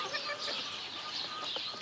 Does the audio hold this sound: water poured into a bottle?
no